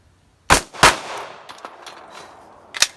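Canik TP9SFX pistol fired at 10 yards: two sharp, loud shots in quick succession, followed by a few faint clinks and another crack near the end.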